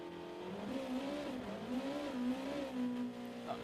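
A Super GT race car in Gran Turismo Sport drones at steady high revs, the engine note wavering as one tyre spins, with a faint squeal near the end; fairly quiet and continuous, no talk.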